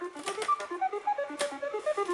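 The game board on the Tic-Tac-Dough TV game show shuffles, making a quick electronic sequence of rapid, evenly spaced bleeping tones that step up and down in pitch, fairly close and steady.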